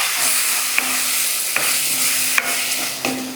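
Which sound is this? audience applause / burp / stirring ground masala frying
stirring ground masala frying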